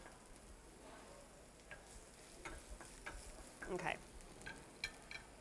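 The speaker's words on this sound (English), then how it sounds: "So I'm going to add my onion. And I'm going to give that a little stir around." Onion frying in hot oil gives a faint, soft sizzle while a utensil stirs it in scattered light scrapes and clicks, with a brief word spoken partway through.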